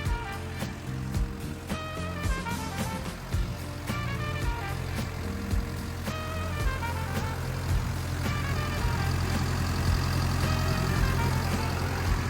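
A steady, rumbling diesel engine of a 12-ton Caterpillar 312D excavator idles close by, its low drone constant throughout with a faint mechanical clatter on top.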